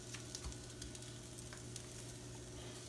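French toast sizzling on a hot griddle, a steady, fairly quiet crackling hiss with faint scattered pops throughout and a low constant hum beneath.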